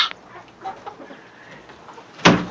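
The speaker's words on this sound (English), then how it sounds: "Look at all the chickies." Chickens cluck softly in a coop at close range, with scattered calls throughout and a louder burst near the end.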